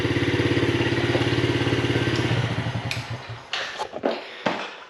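A Yamaha TTR50 dirt bike, its carburetor freshly cleaned, runs with a steady rapid single-cylinder putter that then fades and shuts off, followed by a few clattering knocks; close and alone.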